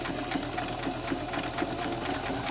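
Sewing machine stitching along close to an edge, a fast, steady mechanical chatter of needle strokes, close up and continuous.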